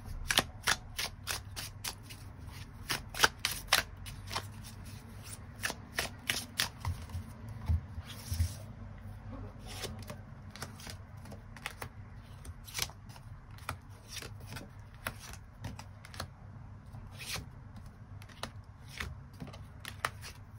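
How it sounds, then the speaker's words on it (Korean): Tarot cards are shuffled in a steady run of crisp, close riffling flicks and snaps that keep going for about twenty seconds, with no voices and only a low room hum underneath. "추가 카드 뽑아보도록 하겠습니다"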